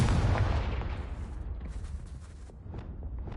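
The Confringo spell bursts in Hogwarts Legacy on PS5 with a heavy, booming blast that rumbles and slowly fades into a crackling, lingering tail.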